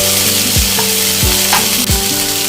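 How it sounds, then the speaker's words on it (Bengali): Carrots, potatoes, okra, green chillies and onions fry loudly in a pan, a dense close sizzle with three or four scraping stirring strokes spaced evenly across it, no voices. "গাজর, আলু, ঢেঁড়স, কাঁচা লঙ্কা, পেঁয়াজ সব কিছু ভাজা করছি।"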